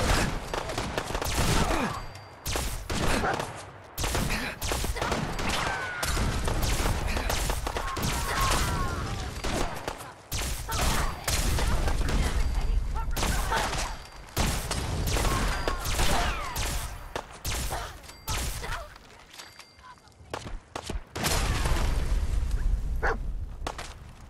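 Alien blaster pistol fire from Fallout 4 comes in dense, loud volleys of rapid energy shots, nearly continuous with brief gaps, over game effects.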